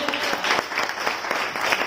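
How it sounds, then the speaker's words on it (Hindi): An audience applauds to welcome Chhattisgarhi film artist Satish Jain at a film launch ceremony, dense continuous clapping from a crowd, loud and close. "और जोरदार तालियां बजती रहनी चाहिए दोस्तों।"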